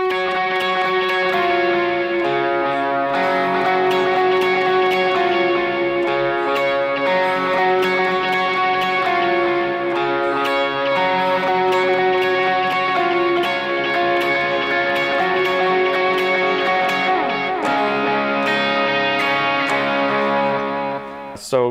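Electric guitar playing the transition phrase from U2's With or Without You with harmonics and chorus, a continuous shimmering, ringing line of repeated notes over a dense mix, steady and loud with no voices.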